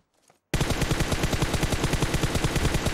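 Automatic weapon fire in PUBG: after a half-second of near silence, a loud, sustained burst of rapid, evenly spaced shots runs to the end without pause.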